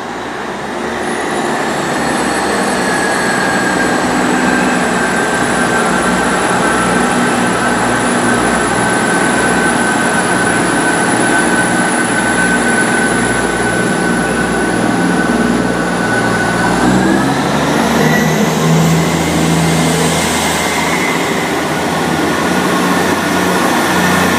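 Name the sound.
South Western Railway class 159 and 158 diesel trains passing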